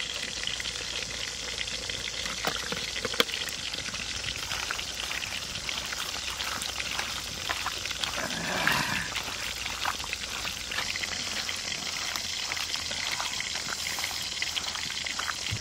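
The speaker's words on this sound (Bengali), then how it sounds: "সর্ষের তেল" Mustard oil pours into a paste of ground turmeric, dried and green chilli, cumin, ginger, onion and salt, making a soft continuous trickle with faint wet splashing, close and steady, no voices.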